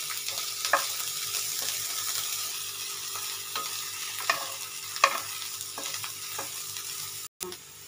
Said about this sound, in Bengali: এগুলো হালকা ভেজে নেবার পর আমি সয়াবিনটা এর মধ্যে দিয়ে দেব।